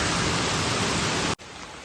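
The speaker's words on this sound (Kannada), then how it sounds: "ಮಳೆ ನೋಡ್ಬೋದು ಯಾವ ಥರ ಬರ್ತಾ ಇದೆ ಅಂತ ಕೆಲಸ ಮಾಡಬೇಕಾದ್ರೆ" Dense, steady hiss of heavy rain falling during electric pole line work, loud and continuous before cutting off abruptly near the end.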